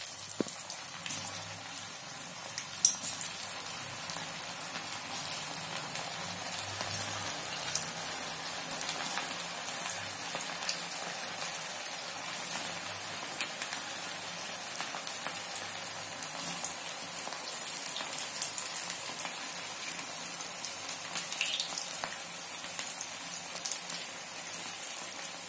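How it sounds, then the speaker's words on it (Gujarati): Farali vada frying in hot oil, a steady fine crackling sizzle that stays constant and moderately soft throughout, with no talking. "જો આપણે તેલ આવી ગયું છે, હવે આપણે એમાં તળી લઈએ."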